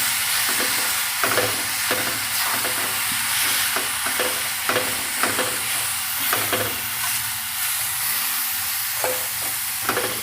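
Amla, ginger and green chili pickle mixture stirred in a pan, with a steady close sizzle and repeated scraping strokes of a spoon in an even rhythm, no voices.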